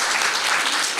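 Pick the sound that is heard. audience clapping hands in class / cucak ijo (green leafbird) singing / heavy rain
audience clapping hands in class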